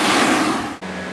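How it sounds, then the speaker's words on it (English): Loud broadband whooshing roar of a carpet-cleaning vacuum running close up over foamed carpet cleaner, steady with a brief dip near the end before resuming. "I use my vacuum tube just to calm it down"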